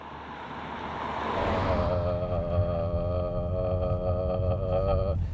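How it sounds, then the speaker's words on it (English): A steady low road rumble inside a moving 2020 Nissan Qashqai Ti SUV, with a constant droning hum and tyre noise, no voices. "That is the noise of the Nissan Qashqai as we drive along"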